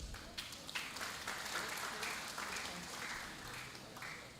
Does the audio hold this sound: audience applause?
yes